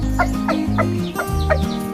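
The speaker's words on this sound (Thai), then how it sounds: "ดู พ่อไก่นะครับ พ่อพันธุ์ใหม่นะครับ" A rooster clucks repeatedly in short, evenly spaced calls, close and clear, with no talking.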